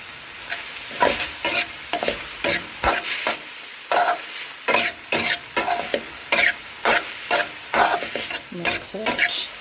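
Amaranth greens sauté with chilli powder in a hot pan, a steady sizzle of frying broken by repeated scraping stirs of a spoon against the pan, close and clear.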